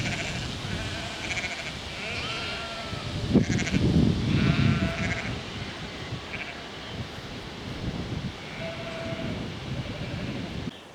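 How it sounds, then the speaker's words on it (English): Sheep and lambs bleat from the fields on the edge of Paxford, a village near Moreton-in-Marsh, during a spring countryside walk. Several calls come at a moderate distance, one louder burst in the middle, over steady outdoor rumble. "Plenty of lambs and sheep to contend with"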